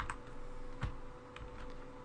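Typing on a computer keyboard, a soft steady patter of keystrokes with one heavier thump midway, over a low background hum.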